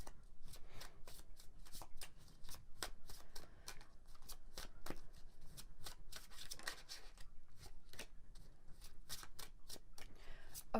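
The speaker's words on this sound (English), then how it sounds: "I'm going to shuffle this way" Rapid riffle shuffling of tarot cards, crisp repeated bursts of flicking and snapping in quick rhythm, close and steady throughout with no talking.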